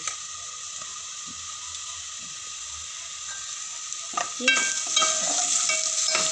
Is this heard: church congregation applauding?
no